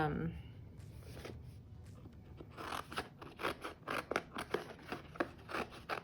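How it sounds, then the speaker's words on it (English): Scissors snip out paper stickers in a run of quick, crisp cuts, sparse at first and then coming in a steady, close rhythm over faint background handling noise. "I'm just gonna cut out a few of these stickers"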